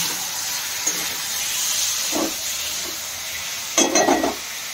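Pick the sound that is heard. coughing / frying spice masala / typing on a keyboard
frying spice masala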